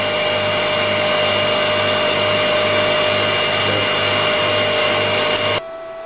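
A PS200 pump runs at constant pressure at 3,031 RPM, a loud, steady mechanical hum and whine that holds unchanged for several seconds before cutting down abruptly near the end.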